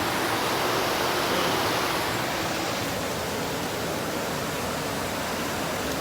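Waterfall at Khao Yai, a steady broadband rush of falling water that fills the scene evenly and continuously at close range, with no voices over it.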